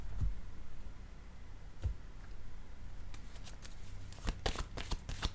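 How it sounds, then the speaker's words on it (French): Tarot cards handled and laid down on a table, with soft slaps and a quick flurry of crisp card flicks toward the end, close and clear. "Je vais déposer une autre carte."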